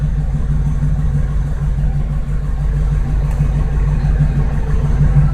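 A car engine idles steadily near 800 rpm, a loud, even low hum with a constant throb and no revving, heard up close without voices.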